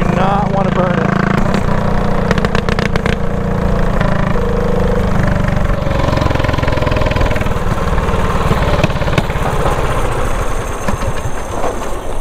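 A gas-powered go-kart engine idles and runs steadily and loudly close by for the whole stretch, a continuous mechanical drone with people talking over it.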